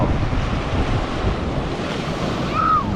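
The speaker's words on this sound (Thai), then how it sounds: "คลื่นกำลังซัดมาเลย" Ocean surf rolls and washes onto a beach in a steady, loud broadband roar with wind buffeting the microphone, a brief high whistle-like tone near the end.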